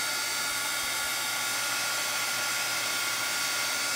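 A heat dryer blows steadily to dry ink on a handmade card, a loud, constant close-up whooshing hiss with no variation and no talk.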